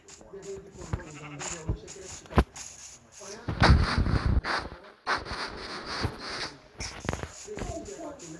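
Minecraft sheep bleats in a game sound mix, short and repeated, interleaved with clicks, thumps and other effects while a person talks.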